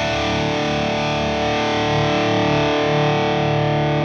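Distorted electric guitar through a tube amp and a Two Notes Captor X with compression engaged, a steady, tight, sustained chord tone held at even loudness with no talking.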